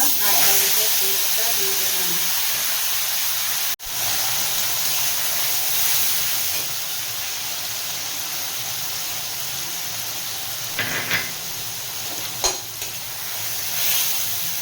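Ground ginger and green chili paste sizzling in hot oil for a Bengali yogurt potol curry, a loud continuous frying hiss with a sharp clatter partway through and brief stirring scrapes near the end.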